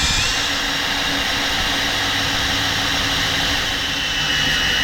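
An electric drill drives an oil pump under load on a StuG III G restoration, a loud, steady, unbroken whine and grinding roar that stays level from start to finish.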